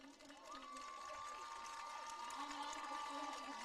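A crowd in the stands at a high school football game between the Pine Bluff Zebras and Maumelle Hornets applauds and cheers in a steady, dense roar for several seconds, with a faint tone lingering underneath.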